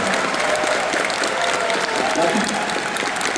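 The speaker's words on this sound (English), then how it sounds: "give them a round of applause" A large convention crowd at the Anthrocon closing ceremony applauds Pittsburgh EMS staff, a thick, continuous wash of clapping with cheering and crowd voices mixed in.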